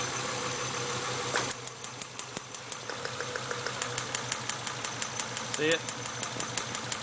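A 1996 Acura TL with the 2.5L engine idles with a cylinder misfire from a leaking distributor cap, producing a steady run of sharp rhythmic ticks or snaps close by, with a person briefly speaking over it.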